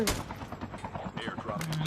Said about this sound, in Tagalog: may bumabaril sa atin